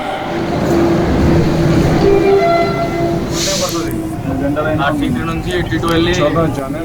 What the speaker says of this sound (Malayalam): അപ്പോൾ നമ്മുടെ മെട്രോ എത്തിയിട്ടുണ്ട്